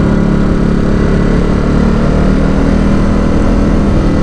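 A Ducati Supersport S motorcycle rides through tight corners, its engine a loud, steady, close drone with continuous wind rush and no pauses.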